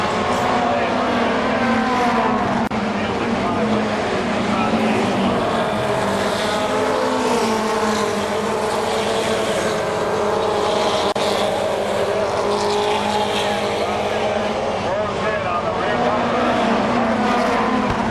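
Stock cars roar around a short oval speedway as racing resumes under the green flag, a dense, loud, continuous engine drone from several cars running nose to tail, with an announcer talking over it.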